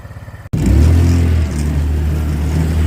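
A GY6 150cc buggy engine catches after a short silence and runs loud and close, a steady droning idle with a brief rev at the start and no talk over it.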